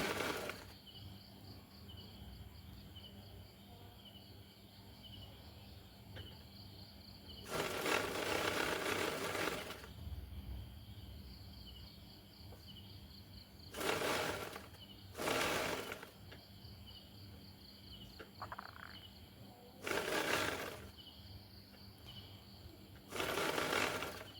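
A sewing machine stitching pants runs in several short loud bursts of rapid mechanical chatter spaced through a quiet room with a steady faint hum between them.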